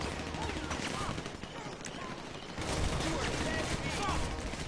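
Rapid gunfire in GTA 5, a dense, continuous barrage of shots that swells louder about halfway through, with a faint voice underneath.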